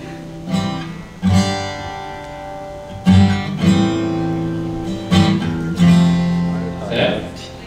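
A four-chord progression is played on an instrument, each chord struck in turn and let ring in a steady, repeating cycle, close and clear, with a brief voice near the end.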